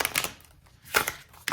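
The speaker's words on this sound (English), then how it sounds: "Oh, I should try riffle shuffling this, which might be kind of hard." A deck of soft-touch, oracle-size cards is riffle shuffled in a quick papery flutter, with a brief crisp burst, a gap, then another riffle, close and alone.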